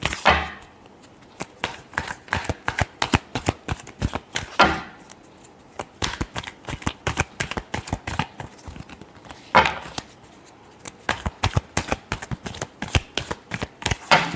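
Tarot cards are shuffled by hand in fast riffling bursts of crisp, papery flicks, close and steady, with brief pauses between rounds and no voices heard.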